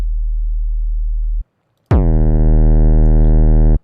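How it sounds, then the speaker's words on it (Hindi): A deep 808 bass tone sounds plain at first, then after a short gap returns pushed through a saturator, with a sharp attack and a buzzy, harmonically rich sustained note. "जब भी हम सैचुरेटर या डिस्टॉर्शन यूनिट डालते हैं तो देखो साउंड को क्या होता है"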